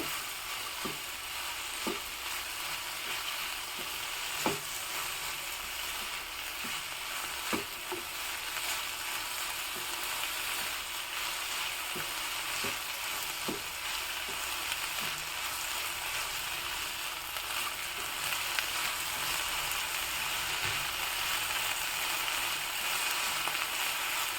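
Okra being stir-fried in a pan for a Mangalorean dish, a steady soft sizzle and frying hiss with scattered light taps and scrapes of stirring, no voices.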